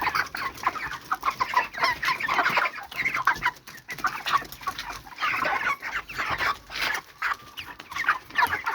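A flock of broiler chickens clucks and chatters continuously at close range while being fed, with dense overlapping calls and no speech.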